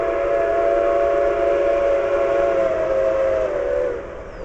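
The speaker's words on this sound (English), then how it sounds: "hear the train!" A loud, sustained steam locomotive whistle blows steadily for about four seconds, then fades, with a rumbling rail background underneath, at a train festival in Owosso, Michigan.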